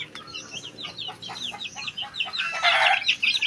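Chickens cluck and chatter close by in a rapid, overlapping run of short calls, rising to a louder burst of squawking near the end.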